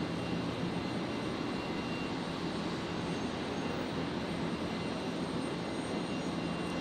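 A jet airliner rolls for takeoff at Brisbane Airport at night, a broad steady roar of engine noise, distant and fairly faint, continuous with no talk.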